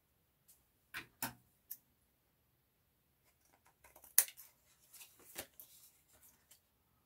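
Scissors trimming quilt fabric corners give a few soft, quiet snips and clicks, scattered and close by in an otherwise silent room.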